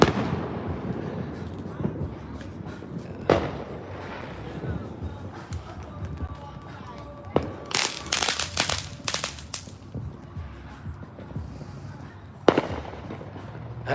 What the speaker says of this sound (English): at least a little more fireworks.